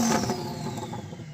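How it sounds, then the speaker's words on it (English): A 1200hp Lamborghini engine revs hard and close, a loud sustained roar that sweeps upward at the start and holds a dense, rough growl throughout. "so I'm going to rev up this Lambo."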